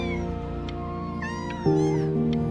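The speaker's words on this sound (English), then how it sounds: "But I really can't have 5 cats around the house." Several cats meow in the video game Before Your Eyes, overlapping drawn-out cries and a caterwaul rising over a steady musical or ambient bed, fairly loud and close, with no one talking.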